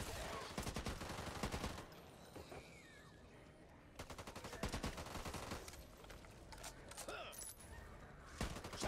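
Rapid automatic gunfire in the zombie shooter game Back 4 Blood, dense bursts of rattling shots that stop and restart, with scattered single cracks, sounding fairly faint overall.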